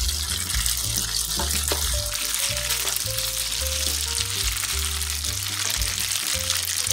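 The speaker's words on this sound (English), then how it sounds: "Once you add it in your pasta, all you want to do is mix it around." Bowtie pasta tossed in a pan of butter garlic sauce, a continuous sizzling hiss with wet stirring, while background music with steady bass notes plays throughout.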